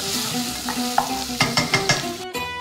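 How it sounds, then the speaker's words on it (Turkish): Chopped onions sizzle steadily in a hot pan, with several sharp scraping stirs of a utensil breaking through the close, continuous frying hiss; no voices. "Soğanlarım bir taraftan güzelce kızarırlarken"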